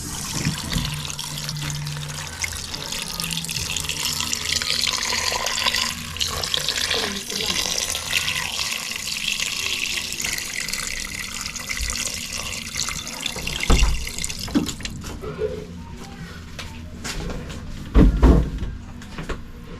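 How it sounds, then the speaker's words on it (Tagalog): Tap water runs steadily into a pot holding pork belly seasoned with salt, a continuous close splashing fill for about fourteen seconds before it stops, followed by a few clunks and knocks. "Lagyan natin siya ng tubig guys."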